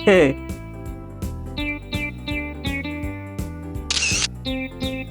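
A mobile phone camera snaps a photo in a Bangla cartoon, a short bright shutter burst heard over rhythmic background music, with a voice speaking at the start.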